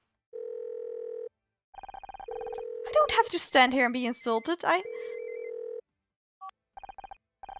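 An outgoing call in the Murder by Numbers video game rings with steady electronic ringback tones, repeated at regular intervals. A voice speaks between the rings, and a few short beeps follow at the end.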